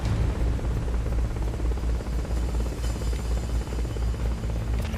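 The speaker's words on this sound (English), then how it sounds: "Forget about the chopper for now." A helicopter in the video game Metal Gear Solid Peace Walker holds a steady, dense rotor drone with a throbbing low pulse, loud and continuous throughout with no talk.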